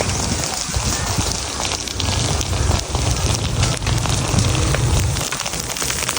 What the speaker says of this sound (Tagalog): Ayan na, lakas ng apoy doon, oh.